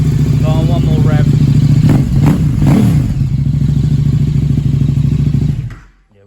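KTM 1290 Super Duke motorcycle with an Akrapovic exhaust, close and loud, idling with a few sharp revs rising and falling before cutting off near the end; a person speaks briefly over it.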